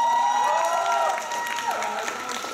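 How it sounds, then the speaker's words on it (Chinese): An audience claps at a live band performance in a converted factory venue in Taichung, a sustained wash of applause with a voice over it and a faint ringing tone. "请大家就是给他掌声一下"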